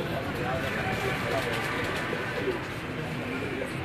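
Pigeons cooing on a rooftop in Sialkot, soft low coos under a steady outdoor background, fairly faint, with people talking nearby.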